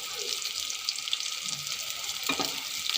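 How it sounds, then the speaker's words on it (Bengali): Eggs frying in a pan with potatoes, a steady close hiss and sizzle with faint crackles and an occasional scrape of stirring. "আজকে ডিম রান্না করি"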